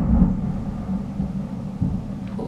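Low distant thunder rolls continuously through a thunderstorm, a deep steady rumble with faint rain hiss and no talk over it.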